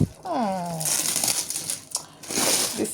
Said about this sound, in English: So let's unwrap.